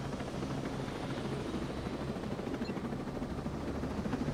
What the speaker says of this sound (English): We're gonna have a lot of fun in this helicopter.